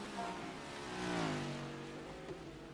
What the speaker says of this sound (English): I heard a car spinning down the front straightaway